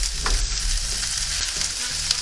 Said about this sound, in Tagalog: Ilalagay ko ngayon ang ating sibuyas. Haluin lang natin.